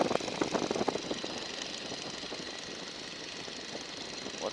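A 1942 Boeing Stearman biplane engine throttled back to about 1,400 RPM drones steadily with a rough, knocking pulse, heard continuously from inside the open cockpit amid wind noise.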